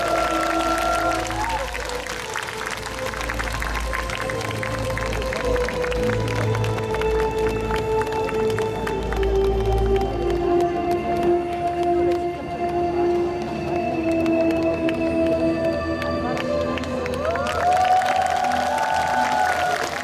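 A crowd at a live open-air radio broadcast special during the 89th Namwon Chunhyang Festival applauds steadily for the singer, clapping and cheering continuously with a faint music tone and some voices mixed in throughout.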